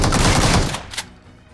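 Rapid automatic gunfire in the battle royale video game BGMI, a loud dense burst of shots lasting under a second, followed by one short sharp shot and then quiet game ambience.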